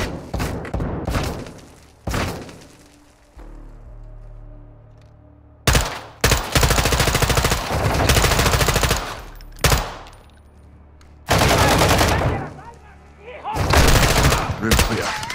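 Machine gun bursts in Call of Duty: Modern Warfare II, loud close rattling volleys in several separate bursts with short gaps between them, a dull low rumble filling the pauses.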